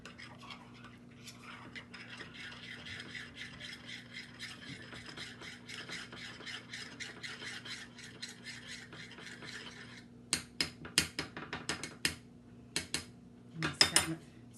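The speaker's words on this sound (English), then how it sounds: "Stir it up as best you can. Scrape the sides a little bit there." A spatula stirs a gelatin mixture in a container with a soft, steady rasping, then scrapes the sides and bottom in several sharper clacks and scrapes, heard close with no talking.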